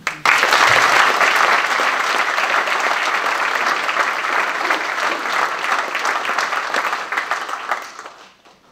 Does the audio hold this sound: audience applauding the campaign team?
yes